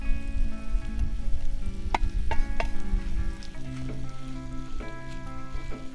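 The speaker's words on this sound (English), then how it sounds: "Now we're gonna mix our veggies on here." Shrimp, sausage, chicken and vegetables fry in a cast iron pan at a camp cookout for jambalaya, giving a steady close sizzle with a few brief clinks and stirring sounds throughout.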